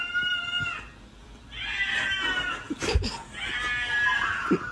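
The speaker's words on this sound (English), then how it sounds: "That cat's not happy." Unhappy cat meowing in long, drawn-out complaining yowls, three separate cries close by with a brief thump between them, no talk over them.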